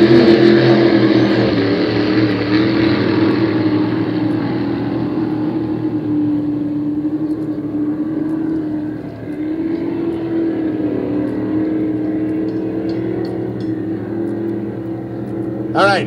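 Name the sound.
Compjet racing boats on the final lap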